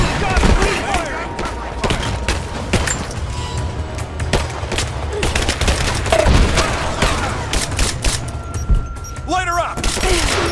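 Gunfire in Rise of the Tomb Raider, a rapid, continuous stream of shots and booming impacts that runs throughout at close range, with voices shouting over the battle.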